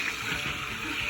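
Warm tap water runs steadily into a container for sourdough, a continuous broadband gushing and splashing that stays close and even throughout, with no talking.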